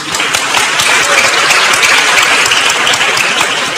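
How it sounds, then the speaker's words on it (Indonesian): Loud, dense applause from a large church congregation during a sermon, many hands clapping steadily at once without pause. "Tepuk tangan."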